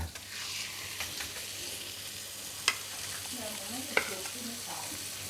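Horse meat frying in a pan for steak, a steady soft sizzle running throughout with a couple of sharp clinks of a utensil against the pan, no talking.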